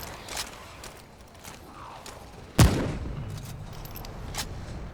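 A single loud gunshot from the video game Remnant from the Ashes rings out midway, with a rumbling tail, preceded and followed by faint scattered shots and game ambience.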